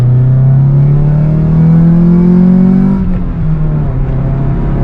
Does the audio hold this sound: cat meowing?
no